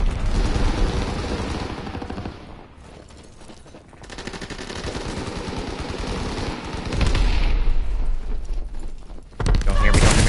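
Rapid turret machine-gun fire in Call of Duty: WWII multiplayer, loud and sustained bursts with heavy booming impacts, a brief lull in the middle before the fire resumes.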